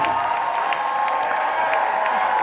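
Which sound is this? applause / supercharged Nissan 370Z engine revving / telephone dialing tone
applause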